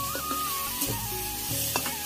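Steady loud sizzling of onions and chopped tomatoes frying with salt in a pan, with occasional stirring clatter over the continuous hiss.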